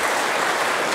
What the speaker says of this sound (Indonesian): Berikan aplaus untuk kerahuan beliau ya.